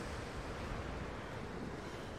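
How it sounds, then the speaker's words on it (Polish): Strong wind blows steadily in the Tomb Raider video game, a dense, continuous roaring rush like surf that fills the scene at moderate volume, with no talking. "Silne wiatry."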